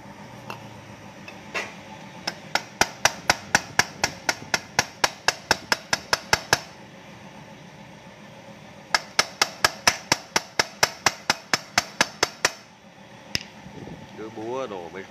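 Rapid bursts of hammer blows strike metal parts on a Vespa LX 3V scooter in a repair shop, two long runs of sharp, evenly spaced clanks with a few stray knocks between, loud and close over steady background noise.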